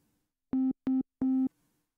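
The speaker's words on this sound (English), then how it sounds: "Maybe a pulse wave would work." Synthesizer pulse wave tone, three short steady buzzy notes at the same pitch, two brief and one longer, clean and close against silence.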